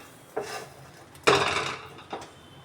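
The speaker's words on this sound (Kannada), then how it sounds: "ಸೊ ನಾನಿವಾಗ ಬಾಣಲಿ ತೊಗೊಂಡಿದ್ದೀನಿ." A frying pan, a kadai, is handled on a gas stove while rice cooks in a pressure cooker, giving three distinct metallic clanks, the middle one loudest, with no talk.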